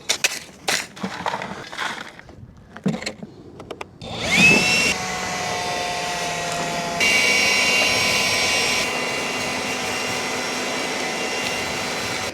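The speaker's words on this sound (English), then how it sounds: "have this blower just keep blowing at the cooler" Leaf blower roaring steadily as it blasts dirt and dust at a DeWalt 20V cooler, after some earlier clattering handling; a loud continuous whine and rush with a shift in pitch midway.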